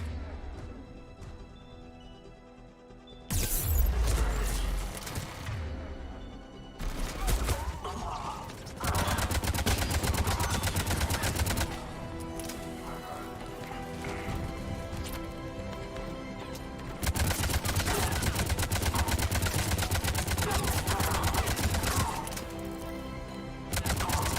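Video game combat from Mass Effect 3, with loud bursts of gunfire and fusillades layered over a dense soundtrack and explosive crashes, continuing for the whole stretch with short lulls between the barrages.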